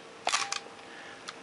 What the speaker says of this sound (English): let's step down through the shutter speeds here, starting at 1/1000th of a second